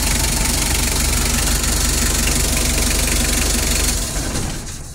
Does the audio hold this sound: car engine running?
yes